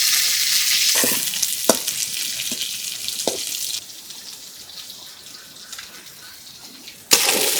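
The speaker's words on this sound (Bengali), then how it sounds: "মাছটা তেলে ভালো করে ভাজিয়ে নিতে হইবে।" Shrimp fry in oil in a wok over a village-style stove, a steady bright sizzle with a few sharp clatters and scrapes, dropping quieter midway before a final clank, no talking.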